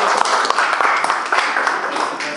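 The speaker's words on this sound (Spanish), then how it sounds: "le damos un fuerte aplauso al maestro" Applause for a teacher at an academic presentation, loud close clapping from a small audience with uneven sharp claps over a thick wash, steady through the short stretch.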